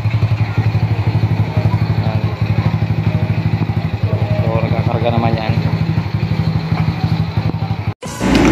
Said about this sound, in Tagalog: napagana natin itong motor na to na nakatambak lang dun sa garahe